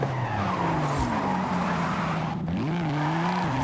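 Jaguar Project race car driven in Forza Horizon 5, its engine droning loudly and steadily with pitch rising and falling through gear changes, plus a brief tire skid midway.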